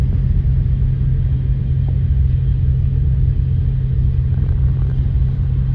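Steady, loud, low rumble from inside a train travelling at 300 km/h on the way to Paris, an even, unbroken drone with no voices.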